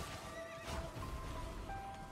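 A horse in the Elden Ring video game neighs, a loud whinny with clip-clop hooves amid game sounds, no talking over it.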